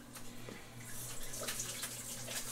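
Steady trickling and splashing of water draining from ground beef in a strainer, fairly quiet and continuous with a few small drips.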